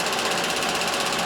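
A Vauxhall Corsa D 1.2 A12XER petrol engine running just after starting, giving a steady, close mechanical rumble with a fine rapid ticking texture and no voices.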